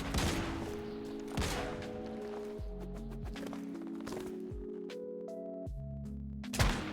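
Magnum gunshots in the video game Once Human, several sharp, loud reports spaced a second or more apart, with game music and a voice talking underneath.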